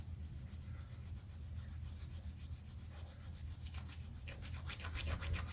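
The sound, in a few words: rubbing round the hardened glue edge of a model part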